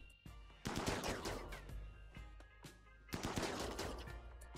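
Gunfire from the RimWorld video game, with rapid bursts of overlapping shots in two clusters over a low steady hum, fairly quiet overall and without talk.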